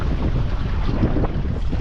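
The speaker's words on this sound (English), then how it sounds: "We got about 20 knot winds gusting almost to 30." Strong wind of about 20 knots gusting toward 30 batters a sailboat on the open ocean, a loud, steady low roar of wind buffeting close to the microphone with no pauses.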